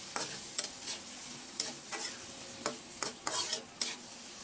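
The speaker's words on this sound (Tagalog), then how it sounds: "Haluin lang po natin mabuti para po manuot ang lasa sa ating nilulutong hipon." Shrimp frying in garlic butter in a pan, with repeated scraping stirs of a spatula over a continuous close sizzle, the strokes coming in irregular bursts.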